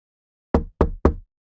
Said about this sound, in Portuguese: Alguém batendo em uma porta.